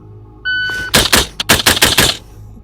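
Rapid series of about eight suppressed gunshots through a Warrior Shorty suppressor, sharp close cracks in quick uneven succession after a brief electronic beep.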